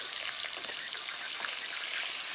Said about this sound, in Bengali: এবারে একে একে গলদা চিংড়িগুলো কড়ার মধ্যে ছেড়ে দিলাম